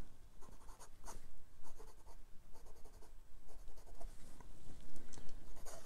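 A 1950 Waterman Taperite Lady Crusader vintage fountain pen writes on Clairefontaine 90 gsm paper, its nib giving close, quiet scratches and strokes in uneven bursts of letters and pauses.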